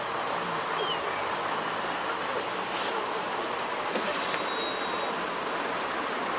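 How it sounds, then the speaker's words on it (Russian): Traffic noise at a bus stop outside a shopping centre in Kaliningrad: a steady engine rumble and hiss from buses, with a faint brake squeal, continuous throughout and moderately loud. "Автобусики, автобусики."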